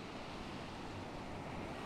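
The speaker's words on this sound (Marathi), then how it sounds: "एकदम कोपऱ्यामध्ये बसलो आहे जिथून अशा वेव्स कंटिन्युअसली येत आहे" Sea waves at Arambol Beach in Goa, washing in continuously toward sunset. A steady, even roar of surf mixed with wind fills the whole stretch, with no voices.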